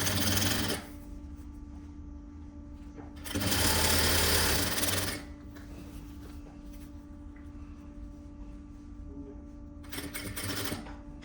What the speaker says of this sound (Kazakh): Төменгі жағын осылай бір-бірімен беттестіріп қоямыз дағыны 1 сантиметрлік тігіспен түзу қылып тігіп шығамыз